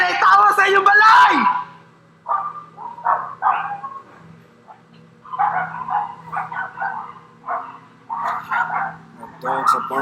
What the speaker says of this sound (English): The dogs are barking crazy.